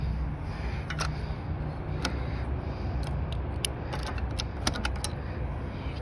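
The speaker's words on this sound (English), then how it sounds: "Let's go ahead and try it on the door lock right here first." A newly cut key for a 2007–2010 Toyota Camry works in the car's door lock, giving sharp metallic clicks and ratcheting taps over a steady noisy background, scattered irregularly across several seconds.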